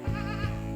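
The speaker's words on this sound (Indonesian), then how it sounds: "kita melihat di sini ada 1 ekor pejantan, ya, dan 2 ekor babon atau 2 ekor induk kambing" Peranakan Ettawa goats in a farm pen, with a buck and two nanny goats, give a loud, close, wavering bleat that fills the whole short moment with no talking.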